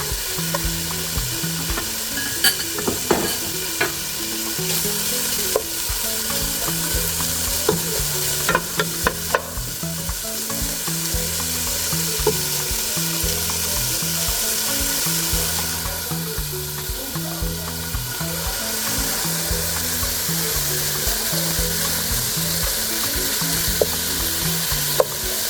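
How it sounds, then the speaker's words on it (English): Bacon browns in a hot pan with a steady, dense sizzle running the whole time, close and fairly loud, broken now and then by faint scraping stirs and small pops. "we're gonna start here by browning the bacon"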